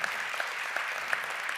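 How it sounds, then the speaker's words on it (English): An audience applauds for the Federal Minister of Education of Pakistan at a conference on climate change and education, steady even clapping with a few sharper claps standing out, no talk over it. "Please, a round of applause for the Minister."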